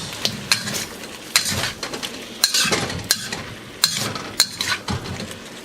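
Beef, celery, ginger and carrots stir-fried in a wok, with a steady sizzle broken by repeated scraping strokes and metallic clinks of a utensil against the pan, close and fairly loud, with no talk.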